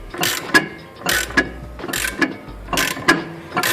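Ratchet wrench tightening a wheel nut to draw a new wheel stud through the hub, clicking in four quick repeated bursts of rapid pawl clicks, close and clear with no talking.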